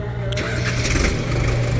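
An Indofarm 3060 tractor engine turns over and catches, settling into a loud, low, steady diesel rumble close by.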